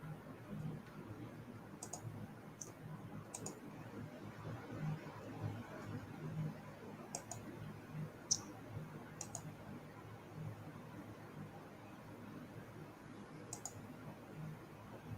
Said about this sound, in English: Is that you clicking Blackwatch?